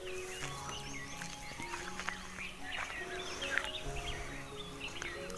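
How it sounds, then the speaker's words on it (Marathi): Morning birdsong in the countryside near Talere, with scattered thin chirps and tweets rising faintly over a steady quiet outdoor hush, no voices. "पक्ष्यांचा किलबिलाट"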